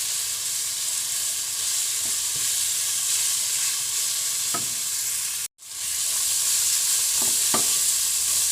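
Pak choy and coarsely pounded anchovies sizzle steadily in a hot pan, loud and close, with a few scraping stirs, a brief cut-out and renewed sizzling.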